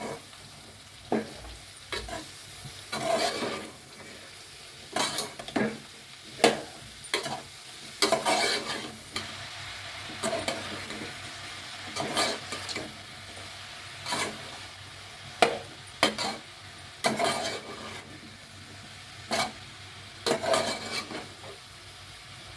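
Mushrooms sautéing in a pan for a pepper fry, a low bed of sizzling punctuated by repeated bursts of spatula stirring and scraping at an irregular rhythm, close and moderately loud.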